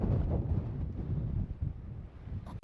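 Wind blows outdoors on a chilly day at a West Texas cotton farm, buffeting the microphone with a steady, low, rumbling roar for the whole moment and a brief faint knock near the end.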